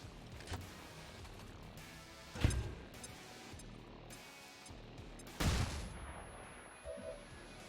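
Bombs explode in XCOM 2 Long War of the Chosen, two heavy booming blasts several seconds apart with crashing debris, separated by quieter rumble and scattered smaller impacts.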